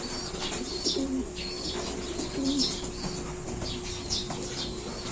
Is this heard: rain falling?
no